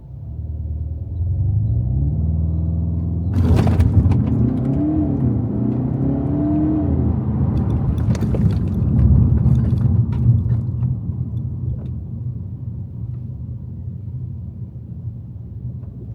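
A Skoda Octavia with new front pads and discs revs hard on launch control while its brakes hold it stationary. The engine climbs from a steady idle into a loud, sustained high-rpm drone and holds there for many seconds with no talk.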